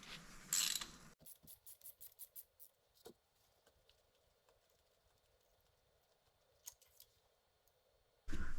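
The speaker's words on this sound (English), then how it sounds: "And then we'll take our ratchet" A ratchet clicks in a quick run of sharp ticks while breaking loose a spark plug on a 2019 Hyundai Santa Fe XL V6, followed by quieter scattered clicks and handling noises, close and clear.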